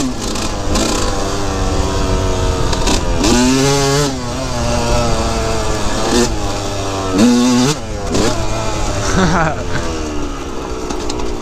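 An off-road motorcycle engine revs hard and rises and falls in pitch while crossing a sketchy rocky trail section in Colorado, loud and close throughout, with a rider's voice over it.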